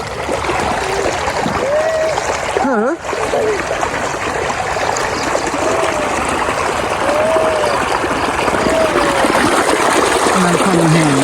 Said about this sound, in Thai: น้ำไหลเลย